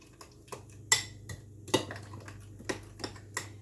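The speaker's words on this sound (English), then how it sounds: "We're going to stir again." A spoon stirs creamy fish fillet sauce with lemon juice in a pan, giving about eight scattered metallic clinks and scrapes against the cookware at an uneven pace, close by, with no talking.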